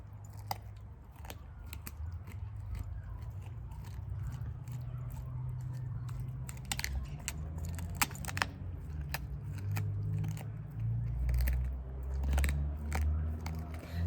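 Someone chews close up with irregular wet clicks and crunchy bites scattered over a low steady hum, no talking.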